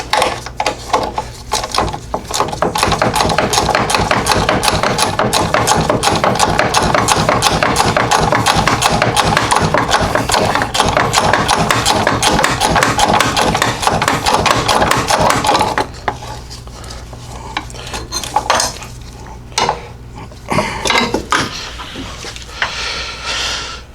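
A rapid, rattling power tool buzzes continuously for about fifteen seconds loosening half-inch bolts while pulling the engine from a 1947 Ford, then stops, followed by scattered metallic clinks and short bursts.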